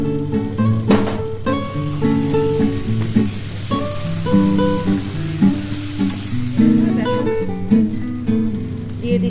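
Curry with a little water and sugar sizzling and frying in a pan while it is stirred, a steady close crackle that runs under background music.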